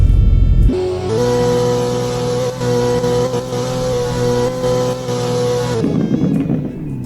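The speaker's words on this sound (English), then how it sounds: "Let's rev." A car engine in the Roblox game SWFL revs and holds at a high, steady whine with strong harmonic drone, then drops back down; loud and close, no voices.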